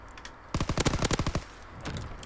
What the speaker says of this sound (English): he shoots me in the leg. I shoot him in the chest.